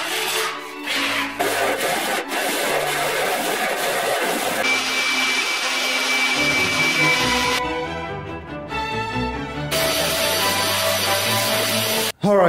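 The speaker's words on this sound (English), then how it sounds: "anything else that's minor laying around, I'm just gonna vacuum it up" A vacuum cleaner runs steadily while picking up loose debris from a garage floor, its broad continuous roar shifting in pitch as the nozzle moves and scrapes, close and loud with no talking.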